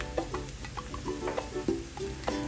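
Pre-cooked prawns go into a salted, sizzling pan: a low, even hiss with a handful of soft scraping and stirring clicks, close and fairly quiet.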